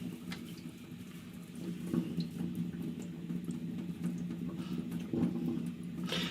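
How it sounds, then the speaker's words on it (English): Water drains out through the tap of a Pinter home brewing machine during cleaning, a faint, steady trickle and splash with a few slightly louder gurgles. "You can see we're letting all the water out through the tap"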